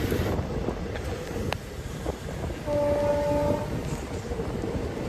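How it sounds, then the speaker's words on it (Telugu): A train rumbles past below a bridge near the Godavari at Rajahmundry, a steady low roar and wind buffeting the microphone, a brief horn-like tone sounding midway. "కిందనేమో ట్రైన్ వెళ్తుంది"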